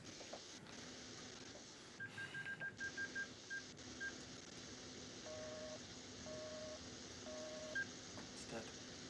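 A phone is dialled in a Resident Evil game: a quick run of touch-tone beeps, then several longer tones over a steady background hum, with people talking quietly throughout.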